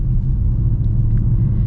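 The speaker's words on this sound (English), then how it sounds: "listen to that supercharger" A supercharged Dodge Challenger Super Stock idles with a deep, loud, steady engine rumble, close by and heard alone.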